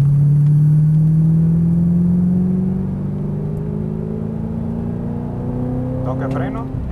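Audi R8 engine accelerating hard, a loud close tone steadily climbing in pitch through the gear, easing slightly toward the end while someone talks over it.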